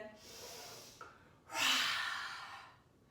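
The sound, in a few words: breathing in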